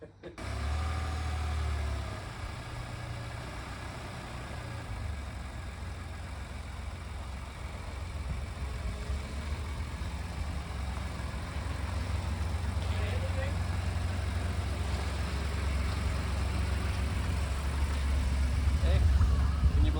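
A car engine idles steadily after starting, a constant low rumble close by that rises slightly toward the end, with no talk over it.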